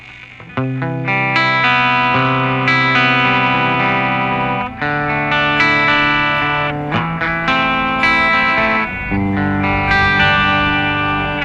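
Electric guitar chords ring out through a twin amp model on a Boss GX-100, with a fairly clean but effect-coloured tone, strummed and held, loud and close.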